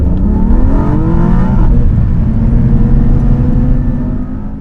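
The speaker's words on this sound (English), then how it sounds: "the rumbly V8 in the E63 is no slouch." A 2021 Mercedes E63 S V8 accelerates with a deep, rumbling engine note whose pitch climbs steadily, loud and close throughout with no talk.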